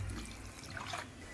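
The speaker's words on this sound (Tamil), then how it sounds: "தேவையான அளவு தண்ணி ஊற்றிக்கோங்க" Water is poured into a mixer jar of ground chickpea-dal chutney with ginger and tamarind for idli and dosa, a faint, brief liquid splash with no talking.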